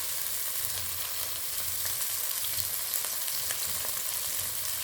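Garlic paste sizzles and fries in hot oil in a pan while a katla fish curry is being cooked, a steady dense crackle running throughout at close range with no talking.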